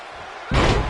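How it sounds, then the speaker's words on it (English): A wrestler hits a sit-out slam onto the ring mat during a tag-team match, giving one loud, heavy thud halfway through that rings on briefly over steady arena crowd noise. "Sit-out slam."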